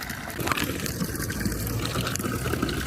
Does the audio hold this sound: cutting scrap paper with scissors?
no